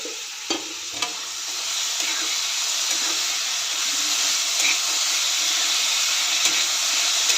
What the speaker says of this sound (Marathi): कांदा हिरव्या मिरच्या कढीपत्त्याची पानं दोडक्याच्या शिरा हे सर्व लालसर होईपर्यंत भाजून घेते